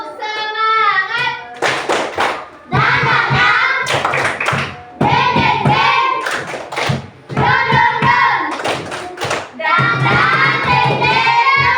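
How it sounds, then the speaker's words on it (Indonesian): Primary school children in a classroom clap their hands in quick rhythmic patterns, loud and close, mixed with voices chanting along between bursts. "Tepuk tangan."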